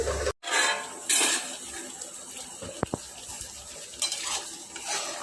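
A spoon stirs spinach and garlic curry in a pan, scraping and clinking against metal in irregular strokes with a few sharp knocks, moderately close and with no voices.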